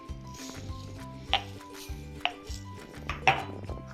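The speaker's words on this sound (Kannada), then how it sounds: "ಮೆಣಸನ್ನ ಕುಟ್ಕೊಳ್ಳೋಣ." Cumin and black pepper are pounded by hand, with three distinct thuds spaced about a second apart over a steady tonal background.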